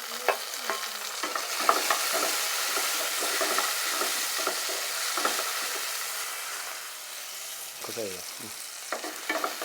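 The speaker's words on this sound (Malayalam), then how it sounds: "ഈ സമയത്ത് നമുക്ക് നമ്മൾ അരിഞ്ഞ് വെച്ചിട്ടുള്ള തക്കാളി ഇതിലേക്ക് അങ്ങോട്ട് ഇട്ട് കൊടുക്കാം" Chopped tomatoes stirred with capsicum in a pan over full flame for noodles, a steady broadband sizzle with repeated scraping strokes of the spoon and a brief louder clatter near the end, no voices.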